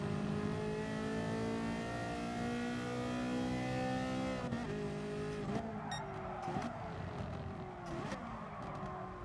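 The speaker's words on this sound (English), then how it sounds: "Oh, I braked late." A race car in GT Sport braking hard into a corner: a loud, steady engine drone drops in pitch, then tires squeal and skid in short bursts, close and continuous, with no talk.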